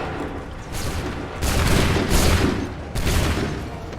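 Musket volley from a line of soldiers in the Assassin's Creed 3 video game: broad, rolling bursts of gunfire that swell in waves, loud and dense with reverberant battle noise between the volleys.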